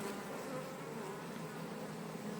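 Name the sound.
honey bees buzzing at an opened beehive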